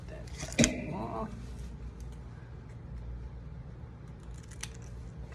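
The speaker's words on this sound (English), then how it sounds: "We're gonna cut that off." Scissors cutting off a piece of a craft stencil, a single sharp close snip near the start followed by a brief rustle, then quiet room tone with a faint low rumble.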